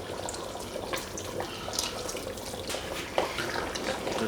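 Cornstarch and water slurry pours steadily into a beef and potato stew with a soft, continuous splashing, close by and fairly quiet.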